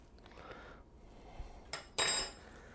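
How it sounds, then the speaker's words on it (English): A utensil scrapes and clinks against a bowl while ingredients are mixed, soft scraping followed by a couple of sharper metallic chinks near the end, close and fairly quiet with no talking. "Keep mixing."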